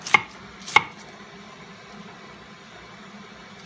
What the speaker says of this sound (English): you're going to go back through and do vertical slices